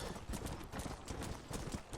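Horse hooves clip-clop at a steady trot in the video game Red Dead Redemption: Undead Nightmare, loud and close throughout, with a quick, even rhythm and a dense backdrop.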